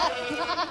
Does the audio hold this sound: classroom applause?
no